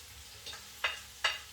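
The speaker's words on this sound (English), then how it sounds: "that's the ginger and the garlic going in" Ginger and garlic fry in a pan for chicken biryani, a quiet sizzle broken by three brisk stirring scrapes, the last two sharper and closer together.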